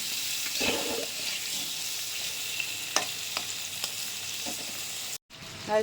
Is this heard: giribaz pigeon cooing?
no